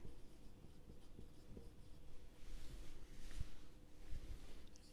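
A pen scratches across paper while an accounting problem on an oversubscribed share issue is worked by hand, giving quiet, close, continuous scratching strokes with small taps and no voices.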